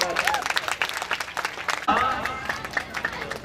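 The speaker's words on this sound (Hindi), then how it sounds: "तालियों से स्वागत।" An audience claps in welcome at a Nirankari Sant Samagam religious gathering, with dense crowd clapping throughout and a voice briefly rising over it partway through.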